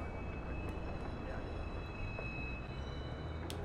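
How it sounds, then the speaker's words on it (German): An elevated S-Bahn commuter train rumbles past in the open-world video game Watch Dogs, giving a steady, dense roar of wheels and track noise with a faint high metallic squeal throughout. It sounds close and continuous, with no pause. "weil die S-Bahn hier, sag ich mal, darüber läuft"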